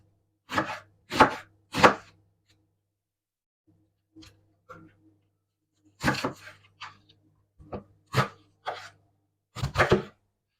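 A knife chops through a medium peeled onion into rings on a board, three quick crisp strikes, a pause, then several more uneven cuts, close and fairly loud with a low hum underneath.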